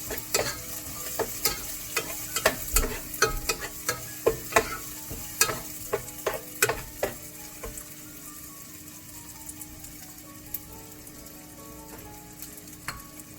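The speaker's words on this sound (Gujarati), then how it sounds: "હવે મેં 1 ગ્રીન મરચું છે, ઝીણું સમારેલું છે, તે આપણે એમાં એડ કરી દઈશું" Finely chopped green chilli sizzles in hot oil for a restaurant-style dal fry. A continuous frying hiss is broken by frequent sharp crackles and pops, close and fairly loud, with no talking.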